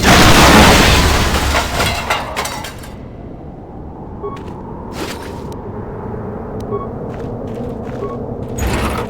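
An explosion in the Star Wars: Knights of the Old Republic video game opens with a loud, broad blast that fades into a rumbling tail, followed by quieter game sounds and a few faint clicks.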